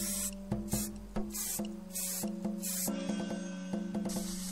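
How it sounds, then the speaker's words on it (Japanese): An aerosol primer can sprays onto a homemade speaker box in several short hissing bursts, close and moderately loud, separated by clicks and rattles. "水気が抜けたらプライマーを拭きます。"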